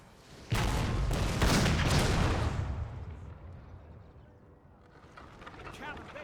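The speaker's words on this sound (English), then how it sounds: "we started firing some cannon fire into the enemy's ranks" Cannon fire during a Napoleon: Total War battle: a loud cluster of booming shots lasting about two seconds, then a lower rumbling that fades into quieter background battle noise.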